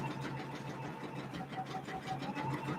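An embroidery machine stitches out an applique design, giving a steady, moderately loud mechanical whir with a fast repetitive needle rhythm throughout, with no talking.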